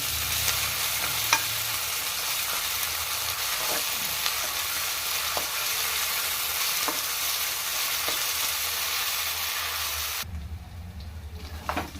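Ginger garlic paste fries in a pan with a steady, dense sizzle while it is stirred, then the hiss drops off sharply near the end. No one speaks.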